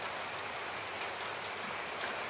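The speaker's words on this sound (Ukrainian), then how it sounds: "От уже й дощ починається." Rain beginning to fall in an animated cartoon, a steady soft hiss of drops that stays even and fairly close throughout, with no voices.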